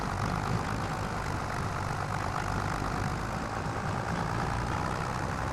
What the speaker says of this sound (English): Come on, tractor.